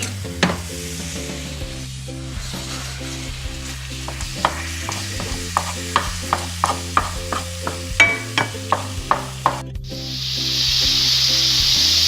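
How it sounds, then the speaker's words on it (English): A skillet heats with a run of light rhythmic clicks and taps, then meat drops in and a loud, sustained sizzle bursts up close and holds to the end. "going to be putting the meat in the skillet after we heat the skillet up"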